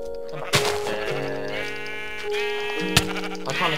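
Minecraft sheep bleating a few times in short wavering cries, with sharp thuds of hits and game music underneath.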